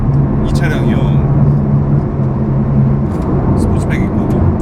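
A Porsche 911 Turbo S Cabriolet 992 with its sport exhaust on drives at steady speed on a concrete road, giving a constant deep exhaust rumble and road roar, with brief voices over the top.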